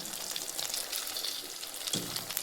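Fasting vadas fry in hot oil in a pan with a bright, steady sizzle, and a brief dull knock comes as one is turned over.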